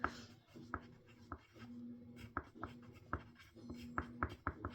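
Pen scratching on paper in close, quiet handwriting strokes, an irregular rhythm of short scrapes and taps with small pauses between words.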